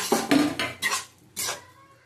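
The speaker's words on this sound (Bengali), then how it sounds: "ডিমটা আমি এর সাথে একটু কষিয়ে নেবো, হালকা, না কষলেও হয়, আমি একটু কষিয়ে তুলে নেবো কালারের জন্য" Eggs being browned in biryani spice masala in a pot, heard as a few distinct clanks and scrapes of a utensil against the pot, spaced irregularly with short quiet gaps between them.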